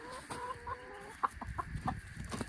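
Backyard homestead chickens cluck and chatter close by in quick, irregular bursts, with a few short higher calls over a quiet outdoor background.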